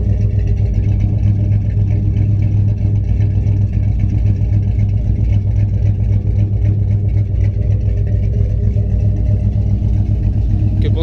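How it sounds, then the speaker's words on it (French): A Chevrolet Nova's V8 idles in a steady, loud, deep rumble with a slightly uneven lope, close by and alone without talk for about eleven seconds. "Je vous laisse écouter un peu la sonorité au ralenti du V8."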